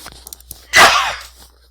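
A single sharp, loud sneeze bursts out in a lecture classroom, preceded by a few faint clicks and trailing off quickly into quiet room tone.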